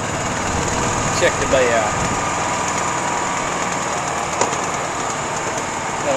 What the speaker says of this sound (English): Now we go for a ride on the golf cart.